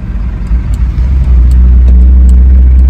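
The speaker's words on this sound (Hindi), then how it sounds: "देखें गाड़ी पे गाड़ी आ रही है, गाड़ी पे गाड़ी आ रही है" Vehicles rolling through a busy road crossing one after another, a steady close engine rumble building in loudness and holding strong without any talk.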